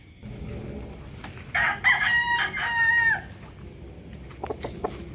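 A gamecock crows once nearby on a farm, a loud drawn-out call, with faint clucks and bird sounds around it before and after.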